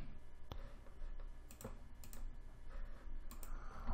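Keys tapped on a computer keyboard while entering a withdrawal amount, a scattered run of light clicks over a steady low background hum, fairly close and moderately quiet.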